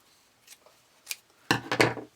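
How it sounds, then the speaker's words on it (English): Scissors trimming excess fabric while sewing elastic, a few faint snips followed by two louder, crisp cuts close by, no talking. "I usually just trim back any excess fabric so that it's easy to fold over"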